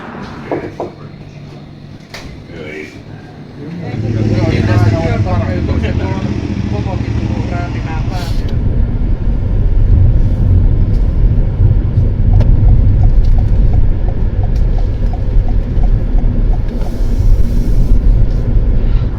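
A car drives along a road in Southern Finland, heard from inside as a steady, fairly loud rumble of engine and tire noise that swells after a few seconds and holds on.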